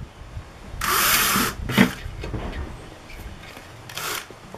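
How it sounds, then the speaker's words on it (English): A power drill bores out rivets holding a silver data plate on a Masterbuilt unit, giving a couple of short, close whirring bursts with grinding and scraping in between. "These are riveted on, so I'll just use a drill."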